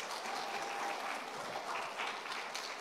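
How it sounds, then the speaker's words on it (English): A church congregation gives a round of applause, a dense wash of clapping hands that holds steady for a few seconds, with a faint voice briefly audible beneath it. "Just give them a round of applause."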